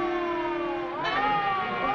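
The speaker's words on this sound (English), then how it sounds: "It's a siren. Probably an ambulance or a police car." A wailing emergency siren from an ambulance or police car, heard steady and fairly loud for a moment before its pitch swoops upward and holds, with no talking over it.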